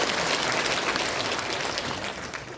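An audience claps at an inauguration ceremony for the president of the Christian Council of Korea, a dense, steady wash of applause that fades slightly toward the end, with no talk over it.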